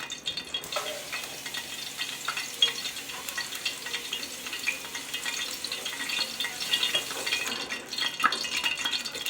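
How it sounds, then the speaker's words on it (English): Grease popping and sizzling in a frying pan while cooking beef stroganoff with homemade gravy, a steady close crackle with scattered sharp pops running the whole time, no talking. "now that I hear my grease popping"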